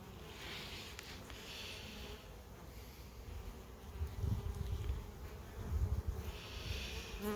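Honeybees at a hive bringing in orange, white and yellow pollen: a dense, steady buzzing swarm up close, swelling in waves, with some heavier low rumbles of handling noise in the middle and later.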